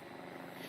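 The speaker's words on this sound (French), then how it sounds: "C'est un bruit d'hélicoptère." A distant helicopter drones faintly and steadily in a brief stretch, its rotor thrum a low continuous wash with no voices.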